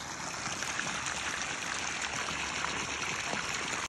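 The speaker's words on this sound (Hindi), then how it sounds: "अंदर नाली से आ रहा है और यहाँ से ये पानी लग रहा है" Irrigation water runs from a channel into a farm field with a steady, close, rushing trickle and no voices.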